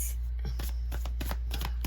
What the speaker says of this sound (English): as I'm sitting here and I'm shuffling